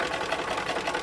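Home sewing machine stitching fabric for piping welt with a shortened stitch under tension: a rapid, continuous whirring buzz of needle strokes, close and steady for a moment.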